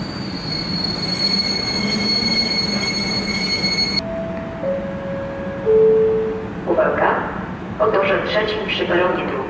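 Express train rolling through Skierniewice station without stopping, a continuous rumble of wheels with high squealing tones, while a voice speaks over it near the end.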